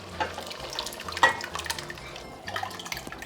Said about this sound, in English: We've added the second can of tomatoes.